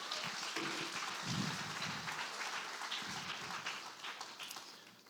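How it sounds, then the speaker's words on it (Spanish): A church congregation applauds at a service, a dense, steady wash of clapping that is fairly faint and distant and slowly fades toward the end. "Vamos a dar un fuerte aplauso al Señor."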